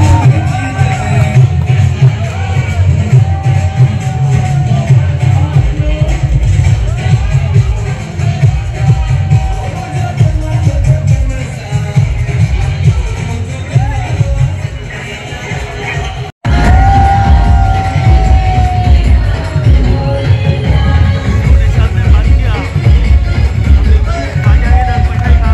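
Party workers at a BJP office cheer loudly while flowers are showered from a JCB to celebrate Kumar Ailani taking the lead, with yells and whoops from a dense crowd that cut out for a moment before surging back.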